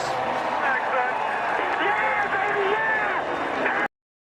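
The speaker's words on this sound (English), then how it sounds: "The crowd roars." Dense stadium crowd roar at a NASCAR Monster Energy Cup Series road course as Chase Elliott takes his first win, a steady loud wash of cheering and applause that holds throughout, then cuts off abruptly.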